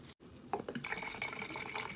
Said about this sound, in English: I'm going to add 4 ounces of Florida water.